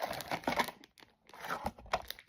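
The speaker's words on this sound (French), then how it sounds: "c'est un merveilleux sachet qui fait beaucoup trop de bruit" A crinkly plastic packaging bag from a Pop Mart blind-box unboxing rustles and crackles up close in two bursts of handling with a brief pause between, with no talking.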